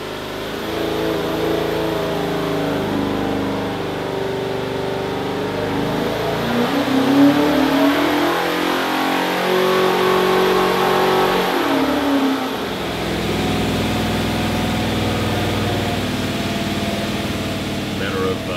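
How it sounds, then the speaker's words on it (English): A Ford car engine runs steadily during break-in at a constant idle-to-mid pace, with a brief swell in the middle before settling back to an even, continuous drone. "Running the motor for about 20 minutes for a break-in."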